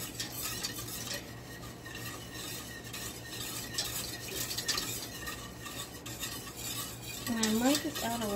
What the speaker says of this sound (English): So I'm gonna whisk this.